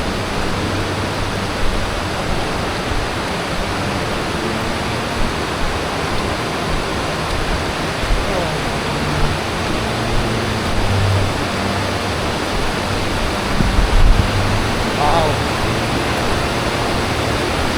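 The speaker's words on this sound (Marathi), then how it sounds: "ओ माय गॉड, काय धबधबा यार" A monsoon waterfall in the Konkan roars loudly and continuously, a dense, unbroken rush of falling water heard close by with no talking.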